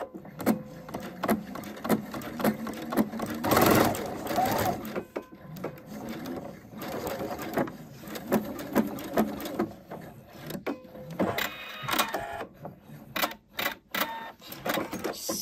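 A sewing machine stitches folded ribbon ends onto a sewn Advent calendar in short, buzzing bursts separated by brief pauses and handling noises, close by and moderately loud.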